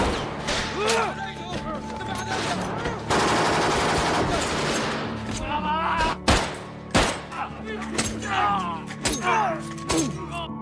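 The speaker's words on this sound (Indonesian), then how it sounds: "baku tembak jarak dekat pun tak terhindarkan" Close-range firefight between a SWAT team and ISIS fighters in the 2019 war film Mosul, with bursts of automatic gunfire, sharp single shots and heavy thuds, some shots ringing out alone near the end.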